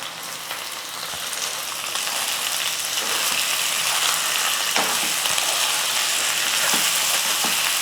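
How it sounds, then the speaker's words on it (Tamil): Chicken sizzles and fries with onions in a hot pan, a steady loud crackling hiss that builds slightly and continues without talk, with a few faint stirring knocks. "சிக்கன் சேர்த்ததுக்கப்புறம் ஒரு ரெண்டு நிமிஷத்துக்கு வந்து ஸ்டவ் கம்மியாக வச்சுட்டு சிக்கன் வந்து நல்லா வதக்கிக்கலாம்"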